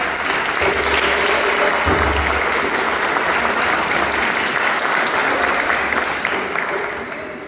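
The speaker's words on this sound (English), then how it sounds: "So can you all please give him a clap?" At a Black History Month Hall of Fame induction celebration, an audience breaks into sustained clapping, a loud, even roar of many hands that tapers slightly at the close.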